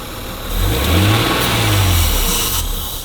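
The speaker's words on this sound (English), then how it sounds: "Keep revving it, keep revving it." Acura NSX NA2 engine with an idle fault, revved hard up close: a loud rising and falling growl held for a few seconds, with no voices over it.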